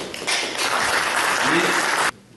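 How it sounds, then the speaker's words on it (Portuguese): Applause for Fernando at a March 2020 meeting about beekeeping, as a round of clapping from the room lasts about two seconds and then stops abruptly. "uma salva de palmas"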